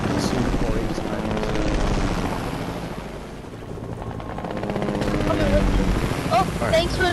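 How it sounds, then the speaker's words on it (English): Helicopter in the video game Fortnite flies nearby with a steady, loud rotor drone that swells and fades slightly, continuous throughout under game sounds. "Grab the chopper. Let's start moving."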